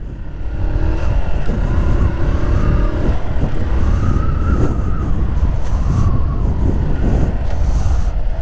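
A motorcycle on a riding-school training course accelerates steadily, its engine note rising and falling through gear changes, loud and close with constant wind rumble and no talk.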